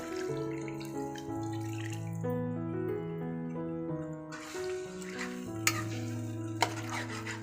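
Quail sizzles and is stirred in a hot pan while sautéing, a soft continuous frying hiss under a melodic instrumental tune, with a couple of sharp clinks.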